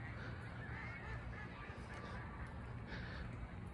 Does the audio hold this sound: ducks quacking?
yes